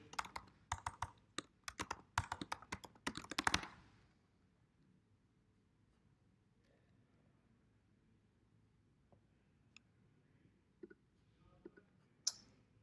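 A short burst of typing on a computer keyboard, quick clustered key clicks for a few seconds, followed by near silence broken by a few faint isolated clicks.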